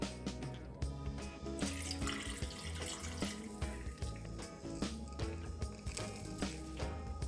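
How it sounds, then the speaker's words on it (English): Half a cup of water pours into a crock pot of browned oxtails, a steady splashing trickle running for several seconds at moderate level with no talking. "I'm going to add a 1/2 cup of water."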